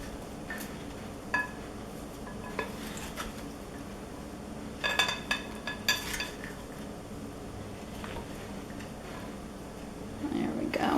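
Mushroom salad with Italian marinade being gently tossed in a slightly too-small bowl, soft clinks and scraping of utensils against the dish in scattered bursts, with a voice speaking over it.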